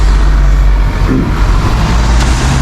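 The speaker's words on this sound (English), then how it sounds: "there's a tour bus actually walking by" A sightseeing tour bus rumbles past on a busy Athens street, a loud, close, continuous low engine drone that fills the whole moment with street noise.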